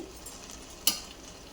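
Rice frying in a pan as turmeric goes in gives a steady, faint sizzle, broken once by a single short scrape or clink near the middle.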